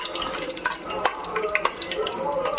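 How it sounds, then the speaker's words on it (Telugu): Cinnamon and cloves frying in hot oil for a Hyderabadi chicken biryani: a close, steady sizzle with soft crackles and occasional scraping stirs. "అది వేడెక్కగానే చెక్క లవంగా ఇంక ఇవన్నీ వేసేద్దాము. కొంచెం ఫ్రై చేసుకుందాం"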